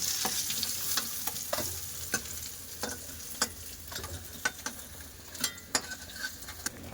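Stirring and frying in a Bengali kitchen pan with light oil sizzle under frequent sharp scrapes and clinks of a spatula against the metal, steady and close, no voices.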